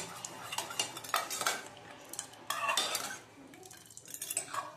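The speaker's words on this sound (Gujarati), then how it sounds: "હળદર પાવડર નાખી દઈશું અને થોડું ફેરવી લેશું।" A spoon scrapes and clinks around a pan while turmeric powder is stirred in for paneer butter masala, irregular metallic scraping strokes close up with a faint sizzle beneath.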